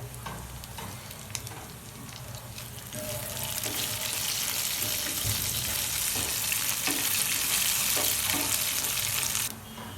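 Curry leaves sizzle and crackle loudly in hot oil in a pan while leftover rice is being cooked, with a steady frying hiss that grows stronger midway and then ends abruptly.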